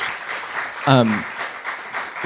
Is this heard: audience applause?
yes